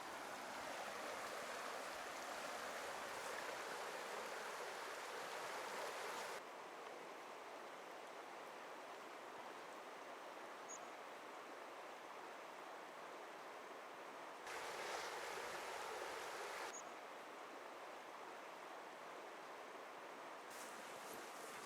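A river stream flows steadily with a broad, even rushing wash of water, loud and continuous, while a man wades across it; the rush swells slightly in a couple of stretches, with no talking.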